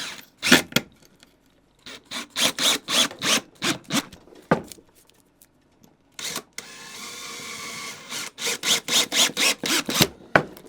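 Deck screws driven straight through a plywood board with a drill: bursts of rapid pulsing whirr from the driver, separated by short gaps, close and fairly loud, with no talk.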